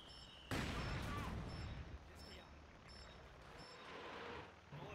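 Gunfire crackles in a Company of Heroes 2 battle near Rostov, a burst of shots opening loud and tapering into scattered fire and rumbling combat, with someone talking in French over it.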